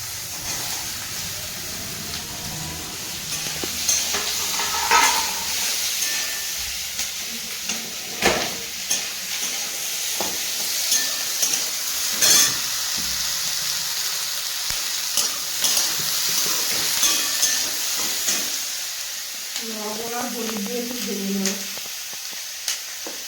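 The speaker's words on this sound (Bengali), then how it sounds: "আলু আর ক্যাপসিকামটা একটু হালকা ভেজে নেবো" Potato and capsicum frying lightly in a pan, with a soft steady sizzle broken by repeated clattering stirs and scrapes of the utensil, and a brief tonal sound near the end.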